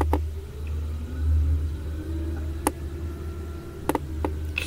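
A CAT 990F large wheel loader's transmission runs during an inspection walk-around and functional test, giving a steady low mechanical drone with a rising whine and a few sharp clicks.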